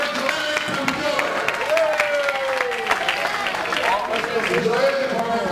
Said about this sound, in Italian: Un bel applauso per Federico